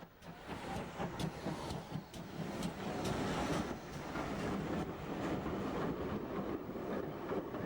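Great Western pannier tank locomotive hauling a mixed train passes with a steady rolling rumble and rhythmic clicking of wheels over rail joints, moderately distant and continuous throughout.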